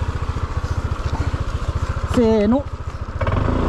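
A Honda ADV150 scooter idles with a steady chugging pulse on a mountain slope, then briefly revs up as it is pushed uphill from behind, while a voice calls out over the engine.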